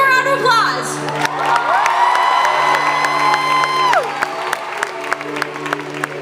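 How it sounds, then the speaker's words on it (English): A concert crowd in Pittsburgh claps, whoops and cheers loudly for the band, with a high sustained shout rising over the clapping and lingering instrument tones underneath before the noise settles. "Give them a round of applause."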